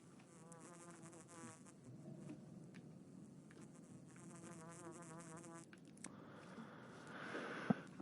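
A fly or similar insect buzzes in the video game Pathologic 2, a steady droning whine that wavers in pitch for several seconds before giving way to a faint rustle and a sharp click.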